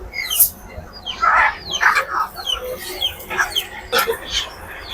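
Layer chickens at a village poultry and duck market cluck and squawk repeatedly in irregular bursts, fairly loud and close, with market bustle underneath.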